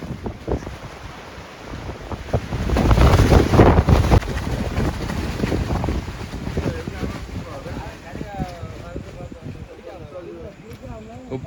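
Strong wind in fog on a mountain buffets the microphone in gusts, a loud roaring rush that peaks early then settles into a steady blow, with a voice talking underneath.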